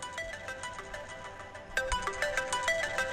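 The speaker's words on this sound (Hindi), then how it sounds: "खसखसे का फोन। उठाओ उठाओ।" A mobile phone ringtone plays as a repeating electronic melody, quieter at first and then jumping louder partway through, with its beeping notes in a steady rhythm in a comedy film scene.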